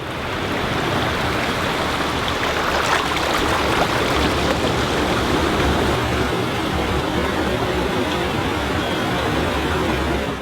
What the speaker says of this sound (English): An entire river disappears underground.